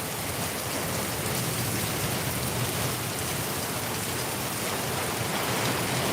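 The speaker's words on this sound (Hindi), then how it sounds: "काफी तेज तरार बारिश हो रही है।" Heavy rain falling steadily in Darbhanga, a dense, loud, continuous hiss of downpour with no break.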